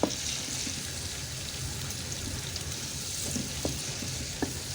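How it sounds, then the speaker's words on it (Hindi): Chopped onions hit well-heated cooking oil in a pan, giving a steady close sizzle and crackle with a few soft clicks, with no voices. "ऑयल हमारा अच्छी तरह गर्म हो चुका है, इसमें डालेंगे प्याज।"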